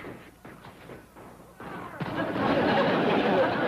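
Gunfire from rifles and a shotgun in an episode of the Beverly Hillbillies western comedy series: a sharp burst at about two seconds turns into sustained loud noise, with faint voices and thuds before it.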